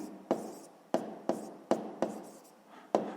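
A pen writes numbers on paper during a sixth-grade maths exercise, making short rhythmic scratching strokes, about seven close, distinct scrapes each fading before the next, alone without voices.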